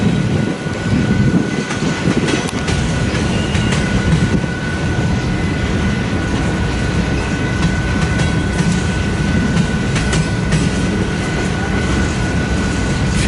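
A westbound BNSF coal drag with power on both ends, including a GP39-3, rolls past at close range, its loud continuous rumble and steady clickety-clack of wheels on rail joints running throughout, with a faint sustained squeal above.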